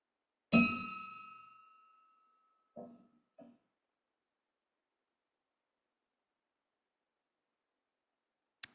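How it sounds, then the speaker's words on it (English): A single bell strikes once at a Rotary Club meeting in memorial, a clear ringing tone that decays over about a second and a half in a quiet room, followed by a few faint thumps. "ring the bell in his honor"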